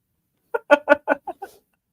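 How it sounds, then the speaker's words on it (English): Chickens make a short run of about six clipped, close clucks in quick succession over silence, the last few softer. "They even brought in the chickens."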